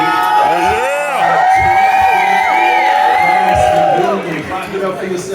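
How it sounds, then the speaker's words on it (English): Crowd of class of 1998 alumni at a high school 25th reunion cheering and whooping, loud and close, with a voice calling out over the noise before the cheers fade slightly. "Clap it up for yourselves."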